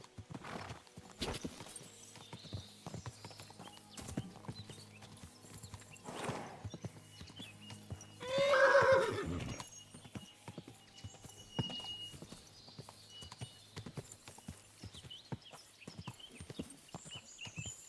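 In the video game Kingdom Come: Deliverance II, horse hooves clip-clop steadily on a hard surface, with one brief neigh in the middle, set against faint ambient background.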